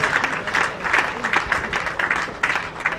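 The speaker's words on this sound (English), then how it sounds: "Shall we please give them a round of applause?" A round of applause from an audience at a ceremony with Sierra Leone's First Lady, steady clapping with rhythmic bursts, fairly close, and a voice faintly under it.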